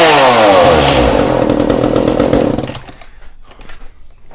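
An Echo chainsaw roars loudly at full revs, then drops to a rough idle that sputters and pops after a couple of seconds.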